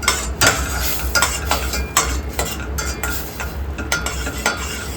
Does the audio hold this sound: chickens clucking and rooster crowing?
no